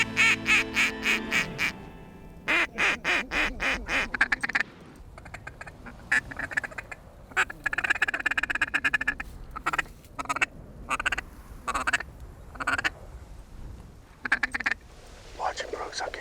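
Ducks quacking repeatedly in bursts during a duck hunt, loud and close with raspy calls, broken by short gaps and mixed with some nearby talk.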